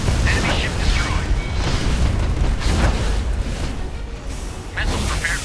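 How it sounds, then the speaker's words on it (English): Explosions and detonations on an enemy ship in a naval warship video game, a dense, continuous rumble of booms and bursts that stays loud throughout. "Repeated detonation on enemy ship."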